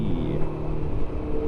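A Corvette sports car sweeps past on a back lane, a loud broad engine roar blending with the steady drone of the vehicle being ridden in throughout.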